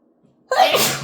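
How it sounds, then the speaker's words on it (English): A single sharp human sneeze bursts out loud and close after a brief quiet lead-in, trailing off with a breathy tail. "I feel like I need to sneeze."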